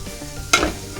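A hot Gotham pan cooled off with a sudden loud hiss that flares and fades within half a second over a low background murmur.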